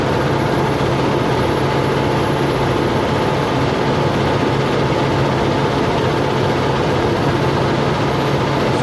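A vehicle engine labours up a steep mountain hill in first gear in the Monashee Mountains, giving a loud, steady, low droning roar that holds without a break.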